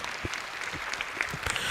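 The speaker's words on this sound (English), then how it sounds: "And a round of applause to him, please." A crowd at a youth meeting claps steadily in a dense, even burst of applause, close and continuous throughout.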